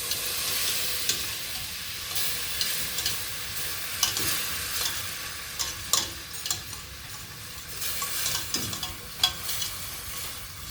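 Flour and butter sizzle in a pan for gravy, a soft steady frying hiss broken by irregular scraping and tapping strokes of a utensil stirring against the pan.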